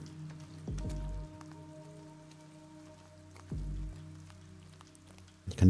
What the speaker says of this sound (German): Bei Regen.